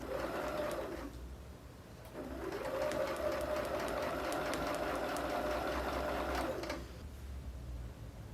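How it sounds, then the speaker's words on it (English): A domestic sewing machine stitches quilt pieces in two steady bursts of rapid, even mechanical whirring with a short pause between them, close and clear with no talking. "again we'll go to the sewing machine"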